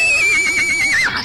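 A horse whinnies loudly and close by, a long wavering neigh that rises and falls before tailing off, with no other sounds around it.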